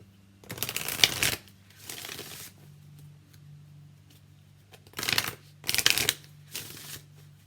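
An Angel Answers oracle card deck being shuffled by hand: several bursts of riffling, papery card noise, two longer runs at the start and two more near the end, close and loud over a faint steady hum.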